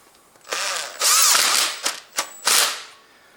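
A power tool driving a locking bolt on a 2006-era Honda Civic, with several close, loud whirring bursts of varying length and a couple of sharp clicks between them.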